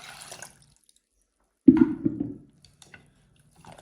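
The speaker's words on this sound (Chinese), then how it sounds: "搅散之后加上560克的清水" Water poured into two beaten eggs in a container, 560 grams going in to mix a dough for fennel fritters. A single short splashing pour of under a second comes up close and alone, then fades into quiet.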